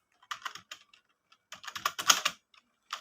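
A file name is typed on a computer keyboard in short bursts of quick key clicks, close and fairly quiet, with brief pauses between groups.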